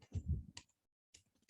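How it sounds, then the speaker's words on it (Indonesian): Keywords are typed on a computer keyboard: a quick cluster of close, quiet keystrokes, then a pause and a few more light clicks. "Nah, kita ketik kata kuncinya seperti ini"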